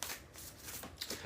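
A deck of tarot cards is shuffled close to the mic in soft riffling bursts, quiet and papery, with a brisk flurry near the end.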